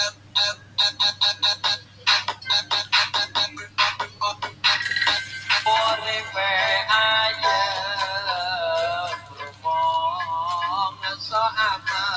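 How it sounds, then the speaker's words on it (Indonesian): A telephone ringtone chimes in rapid repeated bursts, then shifts into a sustained melodic tone that runs on at close range with no voices. "Telepon nyambung, nada dering agak lama."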